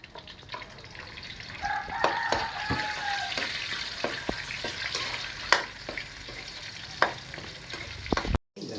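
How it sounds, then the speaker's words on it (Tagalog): Garlic and ginger sizzle in a frying pan for a Filipino susong papa dinner dish: continuous, moderate frying crackle broken by sharp stirring clicks and scrapes, with a faint tonal sound in the background and no speech. "lagay na po natin ang garlic"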